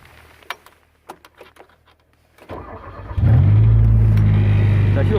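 A speed sprayer's gasoline engine cranks after a few light clicks and handling noises, then catches and settles into a loud, steady idle that runs close by to the end.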